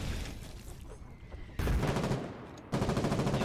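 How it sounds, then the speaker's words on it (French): Rifle fire in the war game Foxhole, with rapid rhythmic bursts of shots layered over a steady battlefield rumble, growing louder in two sudden steps into dense, close, continuous firing. "Y'a un sniper, enfin pas un sniper mais un fusil."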